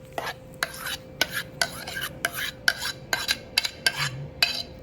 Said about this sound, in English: we're going to add our sour cream mixture